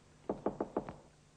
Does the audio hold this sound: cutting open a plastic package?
no